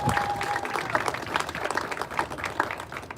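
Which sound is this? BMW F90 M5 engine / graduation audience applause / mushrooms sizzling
graduation audience applause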